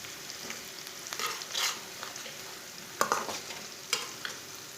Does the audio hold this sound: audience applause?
no